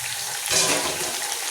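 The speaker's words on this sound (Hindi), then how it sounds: "अब मैं गोश्त डालती हूँ, इसमें चाँपें डालती हूँ, और साथ ही मैं टमाटर भी डाल देती हूँ।" Mutton chops and tomatoes dropped into a hot frying pan set off a sudden, loud, watery hiss that swells briefly and then settles into a steady sizzle, with no speech.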